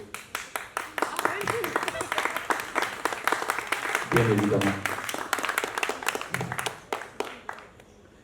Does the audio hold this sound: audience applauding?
yes